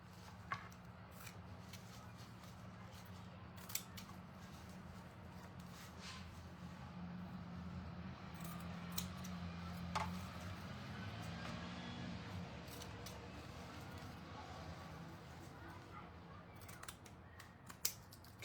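Scissors snip through ribbon while making messy bows for a patriotic denim frame, a series of light, scattered clicks spread over a steady low background hum with no talking.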